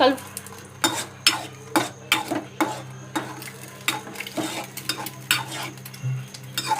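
Cracked eggs stirred into Maggi noodles in a pan, a rhythmic run of close spoon-on-metal clanks and scrapes over a low sizzle.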